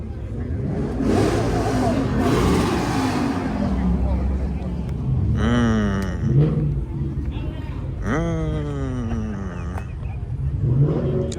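An Audi RS3 with big exhaust tips revs at a car meet, with two or three rising engine pulls standing out over crowd chatter and nearby talking.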